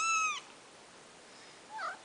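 A cat gives a clear, fairly close meow, then a second shorter, fainter meow follows after a quiet pause, with no talking in between.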